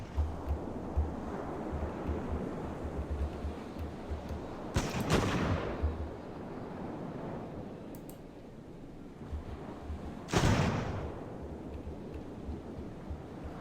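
Ship cannons fire in the naval video game Ultimate Admiral: Age of Sail, with two loud, booming blasts rolling out over a constant wash of sea and wind noise.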